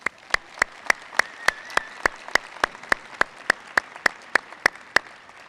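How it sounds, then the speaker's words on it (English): Applause at a university commencement as the faculty are saluted, heard as a single crisp, evenly spaced clap repeating about every quarter second, a loud steady rhythm over a faint hall background. "Please join me in saluting our faculty with a round of applause"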